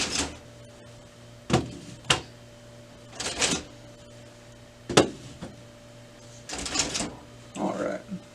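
Plastic clicks and clunks sound as toner cartridges and drums are lifted out of a Brother MFC-L3770 colour laser printer, a handful of separate knocks spaced a second or so apart, close and fairly quiet, with talk alongside.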